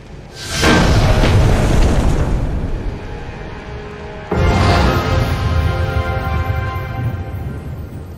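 The Detonate card in Eternal Card Game sets off two heavy booming explosions, the first swelling into a long rumbling roar and the second hitting abruptly about four seconds later, both loud and reverberant.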